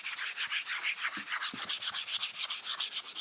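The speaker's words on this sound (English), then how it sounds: "I'm just gonna take this, sand it down a little bit" Hand sanding a DIY keel guard for a Bonafide XTR130 kayak: a steady, close rasping rub in regular back-and-forth strokes that quicken toward the end, with no voices.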